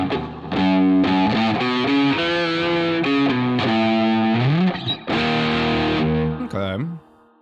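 Electric guitar played through distortion with a drier, less effected tone, picking a series of sustained notes and bends, loud and close, ending with a sliding note that fades out.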